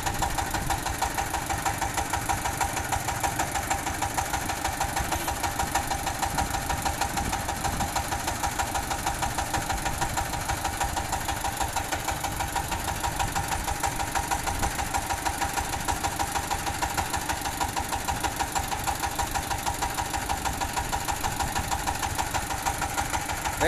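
Diesel engine of a UD truck idling with a steady rhythmic knock and vibration, continuous and close throughout, no break in the sound.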